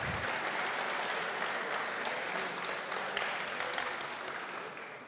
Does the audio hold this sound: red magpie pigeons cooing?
no